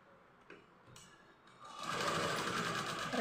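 A sewing machine stitches outline stitching with a presser foot. A few faint ticks come first, then the motor runs in a steady, close, continuous whir for over a second.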